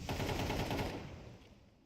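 Rapid automatic gunfire in a Counter-Strike esports match, loud and dense bursts for about a second before fading into a softer echoing tail.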